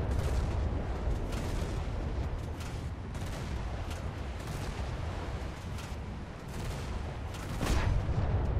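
Naval guns firing armor-piercing rounds in War Thunder, a dense continuous roar of heavy booms and rumbling blasts, loud and sustained with a sharper burst near the end.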